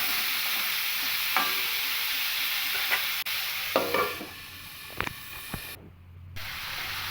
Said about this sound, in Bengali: খুব ভালো করে লবণটাকে মিশিয়ে নিয়ে এবার এই ফুলকপিটাকে আমি একটু ঢাকা দিয়ে ভেজে নেব।